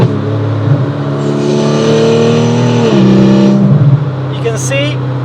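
A Porsche GT3 Cayman with a PDK dual-clutch gearbox revs as torque is added, its loud, close engine tone climbing steadily, then dropping and settling, while a voice appears to talk over it.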